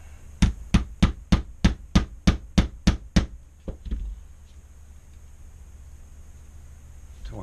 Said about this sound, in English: You can press it down or hammer it.